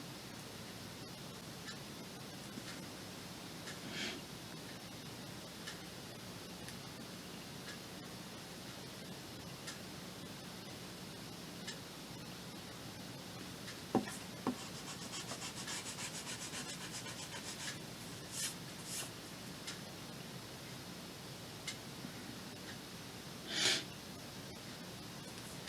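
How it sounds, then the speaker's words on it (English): A pencil traces around a shape on paper, making a faint, continuous scratchy rubbing with a few soft taps against a quiet background. "But I'm almost done tracing it now."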